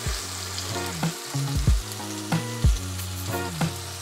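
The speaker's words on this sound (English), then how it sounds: "a little space in between just like this, and we'll brown it on each side" Meat browning in a pressure cooker for Japanese curry, a steady close sizzle with occasional stirring and scraping, no voices.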